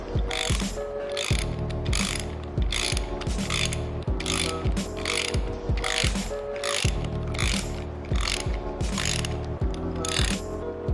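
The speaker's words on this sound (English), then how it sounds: "take your open end, and your 30mm, and go ahead and tighten things up" Metal clicking from a tool tightening a damper lock nut with a 30mm open-end wrench during damper service, a steady run of repeated close ratcheting clicks in regular bursts throughout, with no talking.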